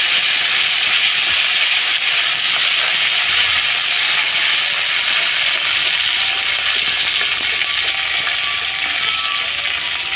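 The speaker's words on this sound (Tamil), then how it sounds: "கருவேப்பிலை பொரிஞ்சிடுச்சு." Curry leaves spluttering in hot oil for a Tamil yam tamarind curry, a dense continuous crackle and hiss that stays loud and even with no pauses.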